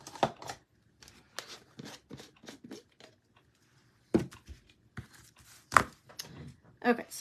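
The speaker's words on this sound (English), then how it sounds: "I just take a knife and hit it, and that loosens it right up." A knife knocks against the lid of a jar of Mod Podge decoupage glue, giving a few sharp, separate taps spread out between quieter handling noises, close by and fairly faint.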